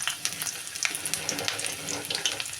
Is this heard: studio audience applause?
no